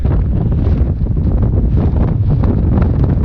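Strong wind roars and buffets continuously on a mountain peak, a loud low rumble with no pauses or voices.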